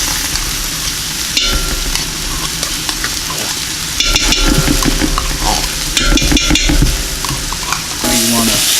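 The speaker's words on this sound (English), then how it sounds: "Now you want to cook that tomato paste." Tomato paste for a meat pasta sauce frying loudly in a pan, a dense crackling sizzle with spoon scrapes and stirring bursts throughout, no talk.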